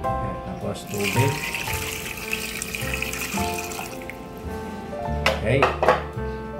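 Water runs from a tap into a cooking pot, a splashing, gurgling stream that rises and falls over several seconds amid clinking of pans, with a musical tone in the background.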